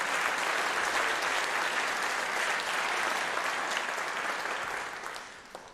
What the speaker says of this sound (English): Let's have one more round of applause for Mr. DeMondre Thurman, our conductor and euphonium